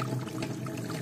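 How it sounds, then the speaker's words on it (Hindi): After rain in a hillside village, water rushes strongly with a continuous, even, pouring roar and no breaks or voices. "यहाँ पे देखो अभी काफ़ी ज़्यादा पानी निकल रहा है"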